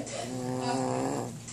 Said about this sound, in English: I thought that was Jennifer growling at me